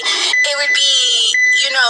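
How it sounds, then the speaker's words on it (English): A smoke alarm sounding loudly and close, a continuous harsh electronic tone with a strong, nearly unbroken pulsing pattern. "That a smoke alarm."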